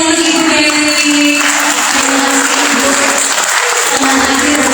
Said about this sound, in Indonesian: kita berikan tepuk tangan yang meriah untuk Ibu Dewi